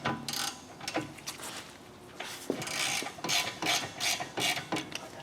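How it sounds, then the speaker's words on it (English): A socket wrench ratchets on a brake caliper slide bolt during rear brake pad replacement on a Ford Edge, giving repeated bursts of clicking with short pauses, close and without talk. "We'll grab our socket wrench."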